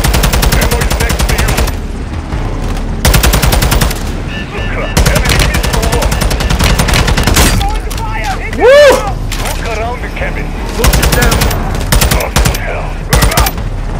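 Bursts of rapid automatic gunfire in the video game Call of Duty Modern Warfare 2, loud and repeated in clusters, with people talking and shouting over the shooting.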